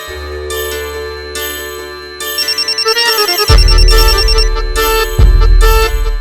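A phone ringtone plays while a call is placed, with a loud, bright melodic tune of repeating chimes and tinkling notes. Lower thuds cut in partway through.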